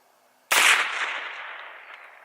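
A single sharp shot from a .22 LR revolver with a 5-inch barrel firing Aguila Super Maximum ammunition, close and loud, followed by a long fading ring as the report decays outdoors.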